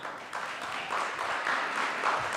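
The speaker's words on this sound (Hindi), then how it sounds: "एक बार उस fact के लिए जोरदार तालियां" Applause from a studio or stage audience after praise for a music composer's work, steady dense clapping that holds at an even level throughout without voices.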